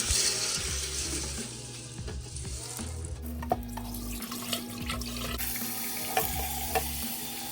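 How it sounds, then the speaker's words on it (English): Tap water runs over dry black beans being rinsed in a sink, a continuous splashing wash with scattered clicks and knocks of the beans and container, fairly quiet and close. "Now it is time to rinse your beans."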